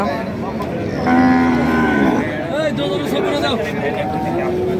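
A cow at a cattle market gives one loud, drawn-out moo close by, followed by quieter lowing, while people talk and murmur around it.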